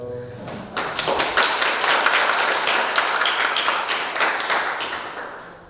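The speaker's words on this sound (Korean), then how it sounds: "인사만 했는데 박수가" Audience at the first Hong Se-hwa Award ceremony bursting into applause after the host's greeting, a dense, loud burst of clapping that begins suddenly and tapers off slowly.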